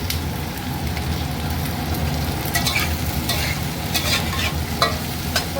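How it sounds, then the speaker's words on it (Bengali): Onion and green chili stir-frying in hot oil for chilli soybean: a steady, close, rain-like sizzle throughout, broken by a few sharper scraping stirs, with no talking. "তো আমি এখানে পেঁয়াজ আর কাঁচা লঙ্কা দিয়ে দেবো, যেটাকে আমি স্টির ফ্রাই করবো।"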